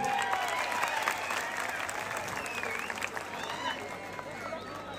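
A crowd applauds at an outdoor wrestling ground, sustained clapping from many hands with a lively, scattered texture and a voice speaking over it throughout.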